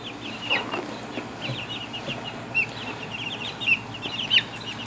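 Baby chicks peeping and softly clucking in a brooder with pine shavings, repeated chirps near and far with faint scratching rustles in between, no talk.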